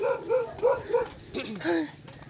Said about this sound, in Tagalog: may naririnig na kayong mga aso